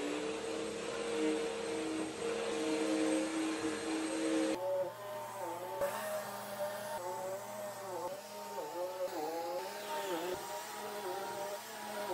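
A vacuum cleaner runs steadily while someone cleans a seniors' home. It gives a continuous whining drone that shifts pitch partway through as the nozzle moves, heard close with no talk.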